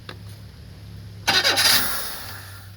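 A hard-starting car engine cranks in a short burst of grinding whir after a quiet idle-like hum, then fades without firing, close and loud.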